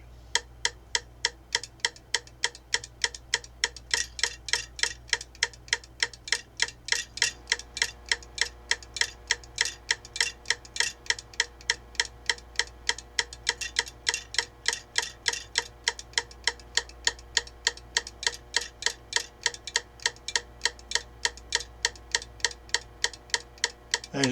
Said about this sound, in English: to the beat of this metronome